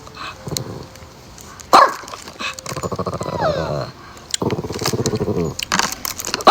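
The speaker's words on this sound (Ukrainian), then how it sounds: "Та чого ж ти гавкаєш?" A dog barks repeatedly, loud and close, in sharp bursts between stretches of a woman's speech indoors at night.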